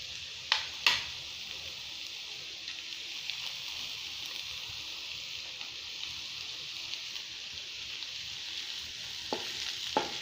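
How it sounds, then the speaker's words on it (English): Green chilies sauté in a pan as a steady, fairly quiet sizzle holds throughout, with a couple of sharp utensil clacks near the start and again near the end. "saute it well. With this we're gonna put the green chilies."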